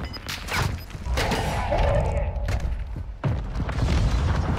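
Mortar explosions in the shooter game Warzone 2.0 land nearby as heavy, rumbling booms, with one burst early and another sharp impact near the end over continuous battle noise.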